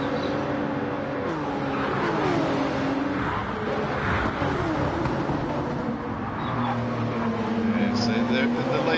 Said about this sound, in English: he seems to be revving the snot out of that little Porsche